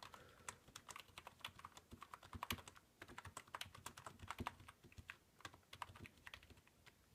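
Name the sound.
typing on an old Dell keyboard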